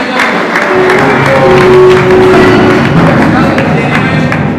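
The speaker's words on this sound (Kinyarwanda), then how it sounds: "ndagira ngo twongere dukomere Imana amashyi menshi cyane" A wedding congregation claps, a diffuse, sustained patter of applause with crowd murmur that is loud and close throughout, a voice and faint tones mixed in beneath it.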